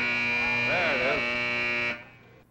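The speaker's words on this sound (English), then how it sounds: "We'll let that buzzer go." A loud, steady electric buzzer drones at a bowling alley, then cuts off abruptly after about two seconds, with a voice talking briefly over it.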